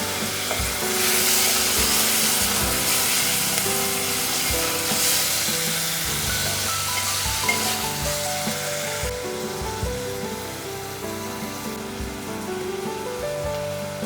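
Chopped sponge gourd with finely chopped tomato and salt sizzles steadily in a pan over a low flame, a dense continuous frying hiss broken by scraping and stirring clatter throughout.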